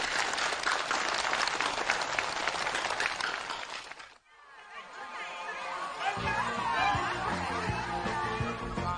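Participants applaud enthusiastically at a ceremony handing over forest-house use permits, with dense clapping and crowd chatter for about four seconds, then a sharp cut into music.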